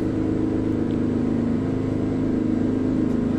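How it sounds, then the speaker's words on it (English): A heavy hauler Peterbilt 389 with a V12 engine in American Truck Simulator, pulling a 70-ton load, holds a steady, loud, high-revving drone with a strong tonal hum and no speech over it. "this sounds like a race car engine. Like, it sounds like it has way higher RPMs."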